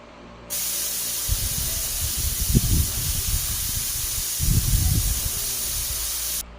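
Pressure cooker on the stove while chicken biryani cooks, a steady broadband hiss of steam across the whole span with low rumbling bursts of boiling underneath, fairly loud and continuous, no voices.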